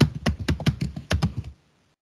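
Quick bursts of keystrokes on a computer keyboard while someone enters an email address, an irregular clicking run lasting about a second and a half, then stopping into silence.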